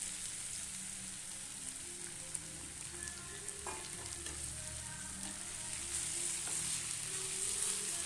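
Heated oil hits mango chitranna masala in a pan, giving a continuous close sizzle with scattered stirring clicks that grows slightly louder toward the end.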